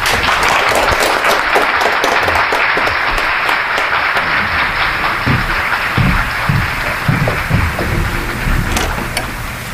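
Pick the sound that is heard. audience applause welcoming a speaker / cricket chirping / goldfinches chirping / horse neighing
audience applause welcoming a speaker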